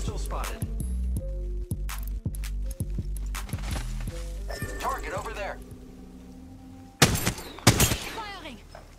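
Gunfire in the Apex Legends video game comes as a rapid string of close sharp shots at the start and again as a loud burst near the end, mixed with game effects and a player talking.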